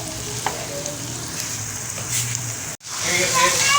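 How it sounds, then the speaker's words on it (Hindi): Goat liver (kaleji) dropped into hot oil with golden-brown onions sizzles steadily, then bursts into a louder, fuller crackle partway through, while someone talks over it. "ये देखें हमने कलेजी डाल दी है ऑयल के अंदर"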